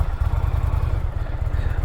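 A 2024 Indian Pursuit Dark Horse motorcycle with a liquid-cooled engine and stock exhaust idles close by, a steady low chugging thump with a quick even rhythm throughout.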